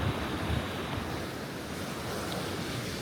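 Sea waves wash against a concrete beach at a camping resort in Istria, a steady rushing surf mixed with gusty wind buffeting the microphone, with no voices.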